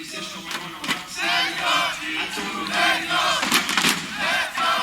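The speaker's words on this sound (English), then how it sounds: "Yeah, the chants are building up. The crowd loving it." A large esports arena crowd at a CS:GO ESL Pro League semi-final, G2 versus NRG on Overpass, chants and cheers in loud, rolling waves with sharp bursts of game gunfire mixed in.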